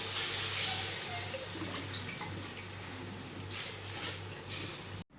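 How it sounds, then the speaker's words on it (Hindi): Water poured into a pan of roasted potatoes and chickpeas, a steady broad rushing and sizzling wash that runs for about five seconds before cutting off abruptly. "अब हम पानी डाल देते हैं।"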